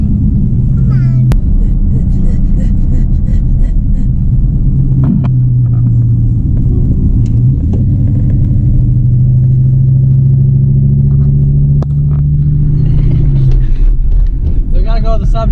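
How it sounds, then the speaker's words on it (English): A Ford Ranger with a 5.0 engine does a burnout, its loud engine droning as a steady low rumble that rises and holds for several seconds close by, while people talk over it. "So we're gonna do this one last burnout."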